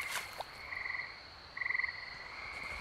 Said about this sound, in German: Ich höre Frösche.